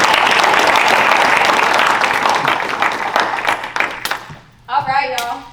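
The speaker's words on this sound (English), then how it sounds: "Give RLC a nice big round of applause" Applause fills a room at an RLCHC endorsee celebration: dense, loud clapping from a crowd that thins after about four seconds and gives way to a voice speaking.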